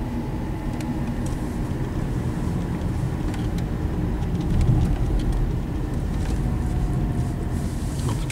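Steady rain drums on a car while it drives along a road, a continuous broadband hiss over a low road and engine rumble that holds at an even level, with no talking.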